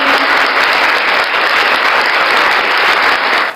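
Loud, dense applause from a crowd welcoming viewers to a Hanuman Chalisa devotional recitation, a continuous close wash of clapping that holds steady and tapers only at the very end.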